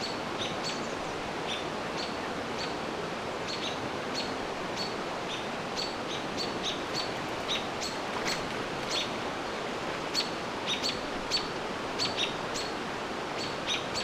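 Small birds chirp and tweet repeatedly at close range while mobbing a barred owl in a Canadian park, with sharp, irregular calls over steady background hiss.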